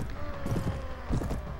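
Horse hooves in the video game Mount and Blade Warband, a quick run of clopping hoofbeats close by during a cavalry charge, with game battle noise around them.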